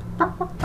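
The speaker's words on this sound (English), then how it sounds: "Chicken." Chicken in Zelda: Ocarina of Time gives three short clucks in quick succession, the last slightly longer, close and clear over a low game hum.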